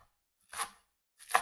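Two short, crisp knife strokes roughly chopping fresh spinach on a board, close and fairly quiet, separated by a pause.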